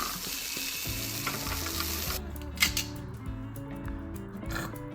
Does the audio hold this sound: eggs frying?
yes